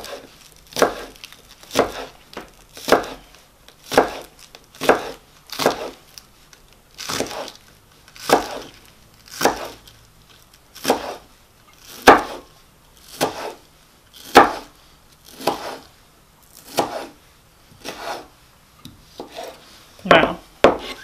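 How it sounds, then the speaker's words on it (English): A knife chops green onions thinly on a wooden cutting board, producing steady rhythmic knocks, each a short crisp cut, repeated evenly and close up with no talking. "And we're going to chop these,"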